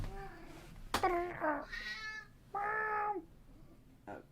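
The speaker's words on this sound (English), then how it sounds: "my cat Odin has something to say" A cat named Odin meows several times close to a microphone, with drawn-out, wavering calls separated by short pauses and a final brief chirp at the end.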